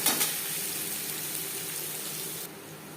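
Chopped onions frying in hot oil for a cabbage curry, a loud, steady sizzle up close that briefly crackles at the start and eases slightly near the end.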